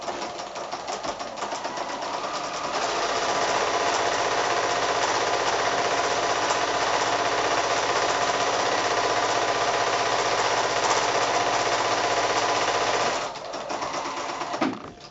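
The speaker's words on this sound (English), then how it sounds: "then I'm going to go to the sewing machine and quickly sew that" Sewing machine running a straight stitch along a pillowcase hem, a fast even mechanical whir that speeds up into a long steady run, then slows and stops, close and clear.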